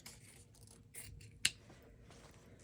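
Scissors snipping through ribbon for a wedding or shower bow, a single close, crisp cut amid faint rustling of fabric in a quiet room.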